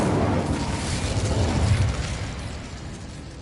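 A fiery whoosh and rumble of the Incendio fire spell in Hogwarts Legacy, sustained and fairly loud, then tapering off at the end with no talk over it.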